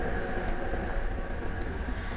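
Steady, close rumble of a Malaysian rail train that runs both underground and on elevated track, a continuous even roar of wheels and motors with no voices.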